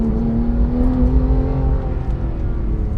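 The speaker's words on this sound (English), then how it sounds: "we can kind of quickly come up to speed here and go super quickly around these corners" A Porsche 911 GT3 (991.2) with PDK engine drones loudly and steadily up close, with a sustained tone under the roar as the car pulls along at speed.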